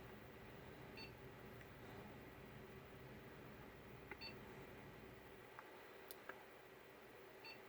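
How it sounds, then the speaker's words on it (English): A computer emits faint, scattered electronic beeps during a system update, a few short tones spread across several seconds over a steady background hiss. "It's beeping."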